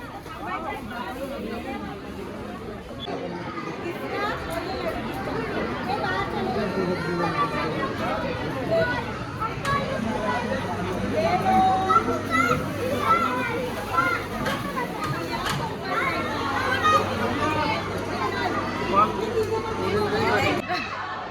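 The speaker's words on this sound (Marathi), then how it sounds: "मॅप्रोमध्ये एवढी गर्दी आहे जसं की मच्छी मार्केट करून ठेवलं आहे भाई साहब" Crowd chatter and babble fill the busy Mapro shop in Mahabaleshwar, a steady mix of many voices, children's voices among them, close and continuous throughout.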